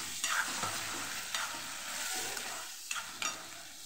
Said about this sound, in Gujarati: ટમેટા ઉમેરી દેવાના છે. એ પણ સરસ મિક્સ કરી અને આપણે સાતળી લેવાના છે